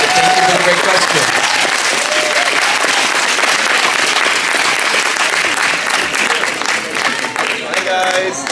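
Loud, continuous audience applause at a fan event with actors, dense clapping mixed with crowd voices and cheers, holding steady across the whole stretch.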